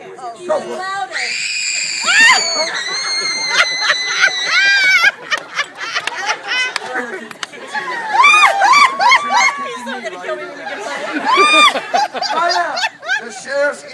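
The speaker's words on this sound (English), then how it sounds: "I screamed again, even louder." A loud, shrill scream rings out during a Robin Hood performance at the LA Renaissance Faire, rising and falling in bursts amid talking, snickers and crowd laughter.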